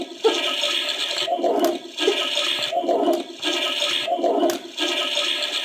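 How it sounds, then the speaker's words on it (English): A toy toilet from a party game gives several squirting flush sounds, three watery bursts in a row at a close, moderate level, with no talking. "You got 5 squirts from the toilet, man. 5 flushes."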